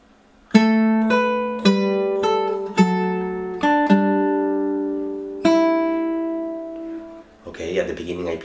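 Fingerstyle acoustic guitar playing measure 16 of a song from Toy Story 2, a slow run of about nine plucked notes and dyads left ringing, with brief handling noise at the end.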